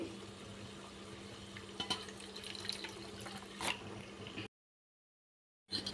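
Water streams into a pot of tomato rasam in a soft, continuous pour with a few splashy bumps, then cuts to silence before a short burst returns at the end.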